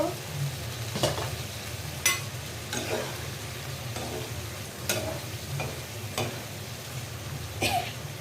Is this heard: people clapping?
no